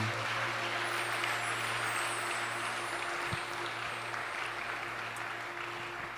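A church congregation applauding, a dense, steady wash of clapping from many hands that continues evenly throughout and fades slightly at the end.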